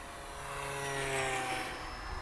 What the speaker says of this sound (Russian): сейчас с отпущенными ручками модель летит по прямой